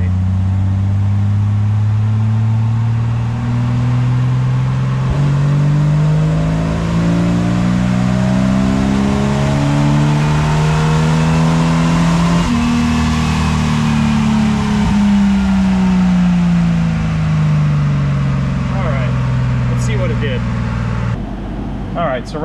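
A Jeep Wrangler with the 4.0 engine and 1.7 roller rockers revs through a full dyno pull in brutal heat, pitch climbing steadily, holding a loud strained roar, then sweeping back down as the throttle comes off near the end.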